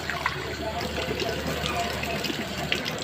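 Water splashes and runs continuously while a face pack of gram flour and wheat flour is rinsed off the face, a close, steady wash.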